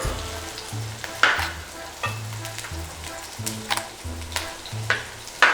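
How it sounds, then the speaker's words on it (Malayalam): Mutton frying in a pan for a Chettinad-style roast, with a steady sizzle and several scraping stirs spaced through, over a low background hum. "ഇനി ഒന്ന് ഇളക്കി കൊടുക്കും"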